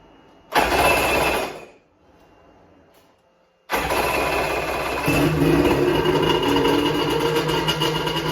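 A personal watercraft engine cranks in a short loud burst, pauses, then fires and settles into a steady running drone, close and alone.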